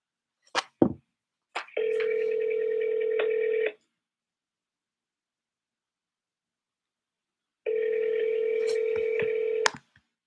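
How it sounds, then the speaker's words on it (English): A telephone call dials out with short keypad tones, then a steady ringback tone rings twice in long bursts separated by a silent pause, clean and close. "Here I go, dialing out."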